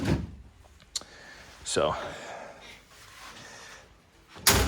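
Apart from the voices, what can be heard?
service vehicle door catching as it is closed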